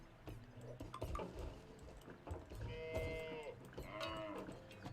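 Sheep in the video game What the Golf, several loud nearby bleats in irregular bursts over a busy game soundscape, with no talk.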